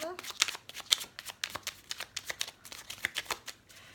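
Tarot cards shuffled for a reading, a rapid run of crisp riffling flicks close up, with a voice speaking over them.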